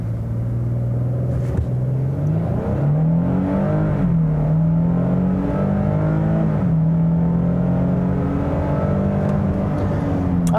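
A 2022 Nissan Frontier SV pickup engine revs hard and close, rising in pitch as it accelerates from a brake-torque launch, then holds a loud, steady drone with a deep rumble underneath.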